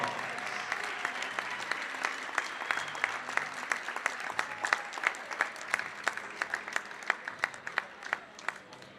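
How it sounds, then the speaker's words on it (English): A gym crowd claps for basketball players and their parents at a girls' high school game, a wash of applause marked by sharp individual claps, moderately distant and sustained. "Let's give all these players and their parents a big round of applause."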